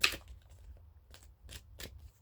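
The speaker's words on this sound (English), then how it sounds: "we shuffle the deck" A tarot card deck being shuffled: a few short, dry papery riffles in separate bursts, quiet and close, with a low steady hum beneath and no talking.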